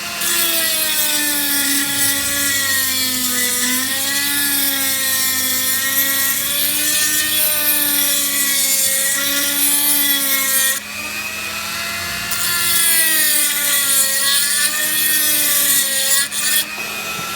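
Power tool grinding and cutting into a SIG P225 pistol magazine being modified for a Star BM 9mm pistol, a loud, steady whining drone with wavering pitch that runs almost nonstop, dipping briefly midway before resuming.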